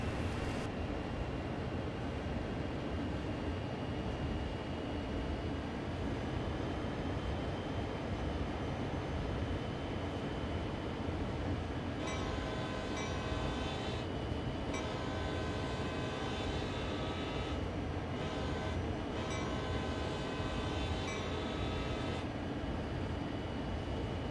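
A diesel freight locomotive runs downhill on dynamic braking in the Train Sim World 2 game on the Cane Creek route. It gives a continuous heavy engine and rail rumble with a steady drone throughout.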